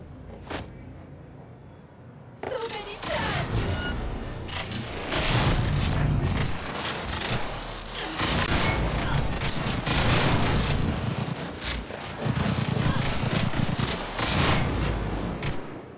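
Cyberpunk 2077 gameplay gunfire during a police response comes as repeated dense bursts of shots and impacts, loud and sustained after a quieter opening, with no clear speech.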